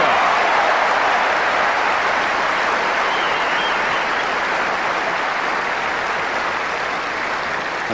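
Crowd applause fills Wimbledon's Centre Court after Becker takes a game in the 1995 men's final against Sampras, a steady, dense wash of clapping that holds throughout and fades only slightly toward the end.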